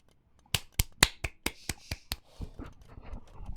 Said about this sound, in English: Let me turn the other mic on so you can hear my clapping.